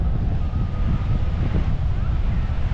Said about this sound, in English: a little bit windy at the moment on this side,